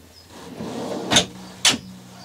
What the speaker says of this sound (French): Donc le tiroir, gros vaisselier sur frein, mais ça ne se verrouille pas tout seul.